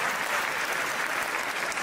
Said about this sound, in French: je vous coupe des fois les applaudissements parce que vous me flinguez le rythme